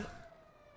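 An ambulance siren in the video game GTA V sounds as a steady electronic wail, fairly faint and distant, in a game scene set in a park with a boat.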